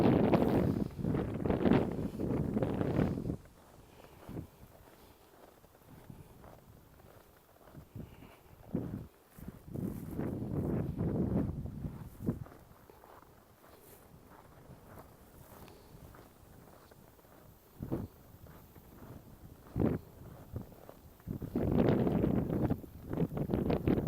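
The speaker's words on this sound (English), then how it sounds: "It might be a little bit windy here, so you might not be able to really hear me talk." Wind gusts buffet a microphone outdoors on a frozen lake with a ski track, coming as loud roaring bursts that give way to quieter stretches between gusts.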